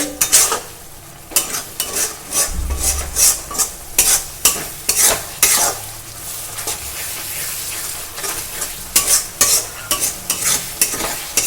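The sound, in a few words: frying onion paste in oil for chicken curry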